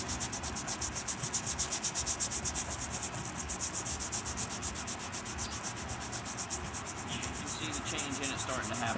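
Corroded metal is scrubbed with Corrosion X rust remover in fast, steady back-and-forth strokes, a close rhythmic rasping that keeps going without pause.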